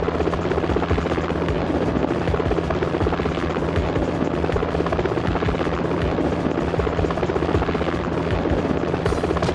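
A helicopter in the PS1 video game Jackie Chan Stuntmaster gives off a loud, steady rotor and engine roar that fills the whole stretch without a break.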